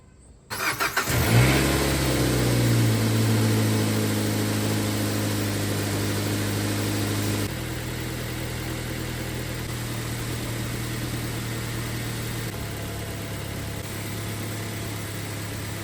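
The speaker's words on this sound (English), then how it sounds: "start the car, and turn the steering wheel side to side." A Mazda 3 engine cranks and catches, then settles into a steady, fairly loud idle that runs on for over ten seconds with slight shifts in tone, no talking.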